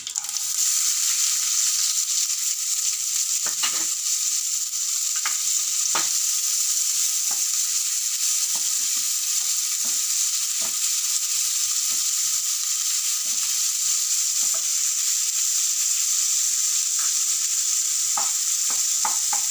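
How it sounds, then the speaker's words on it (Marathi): Onion fries in hot oil with cumin and a pinch of asafoetida for sweet corn upma, giving a loud, steady sizzle throughout, broken by occasional spoon scrapes as it is stirred. "आता त्याच्यावर मी कांदा टाकते"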